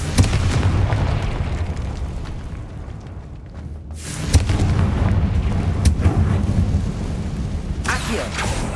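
Confringo fire spell in Hogwarts Legacy going off with heavy booming blasts, a rumbling roll of explosive sound, a lull, then fresh bursts near the start of the second half and again at the end.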